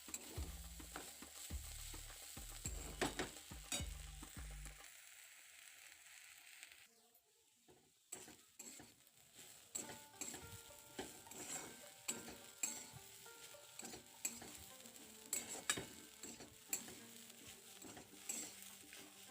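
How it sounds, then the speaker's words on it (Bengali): Yardlong beans (borboti) frying slowly in a pan, stirred with clinks and scrapes of a utensil over a soft sizzle, with a brief quiet gap before the stirring resumes. "তাই আস্তে আস্তে ভাজাটা ভেজে নিলে সুন্দর হবে।"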